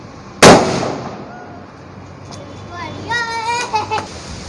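A single sharp firecracker bang goes off nearby during Diwali celebrations, followed by lingering outdoor ambience and children's voices chattering and shouting afterward.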